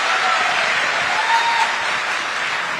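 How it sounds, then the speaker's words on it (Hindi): Loud, dense applause from a large audience of young professionals at a good-governance gathering, a steady unbroken wash of clapping with no voices. "इस पे ताली जरा जोर से बजाओ।"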